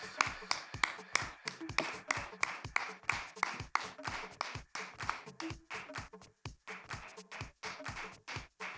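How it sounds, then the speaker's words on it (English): Audience at an awards ceremony clapping, a sparse group of distinct hand claps in an uneven rhythm, fairly close and moderately loud, with no talk over it. "Please keep the applause going"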